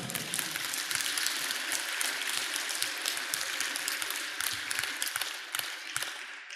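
A congregation applauds during a church service, a dense, continuous crackle of many hands clapping that holds steady at full strength for several seconds before easing slightly at the end.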